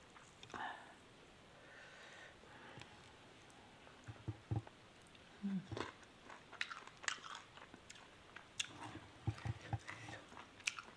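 Someone eats chili paste with fermented fish, making quiet close chewing and crunching bites that come in an irregular run and grow busier toward the end over a low, hushed background.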